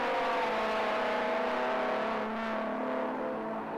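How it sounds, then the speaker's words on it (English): Two screaming 2-litre saloon race cars and a V8 Tuscan racing together at Thruxton, a loud, sustained layered engine howl held at high revs with pitch slowly shifting, no talking. "the pair of screaming 2-litre tin tops are sort of certainly equaling the grunt of the V8 up there"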